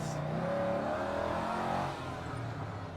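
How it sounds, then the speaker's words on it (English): A 1977 Jeep CJ7 with an LS V8 engine hums and revs while driving, a steady mid-pitched drone from inside the vehicle that eases slightly partway through. "we're going to do a little test drive here"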